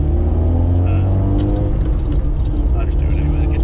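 A Mk1 Ford Escort RS 2000 drives along on its first run after reassembly, its engine droning steadily and loudly from inside the cabin, with someone talking over it.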